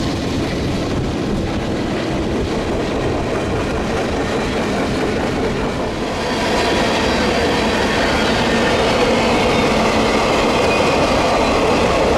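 A Kansas City Southern freight train passes close by, its rumbling rail cars and rhythmic wheel clatter running continuously and growing somewhat louder and brighter halfway through.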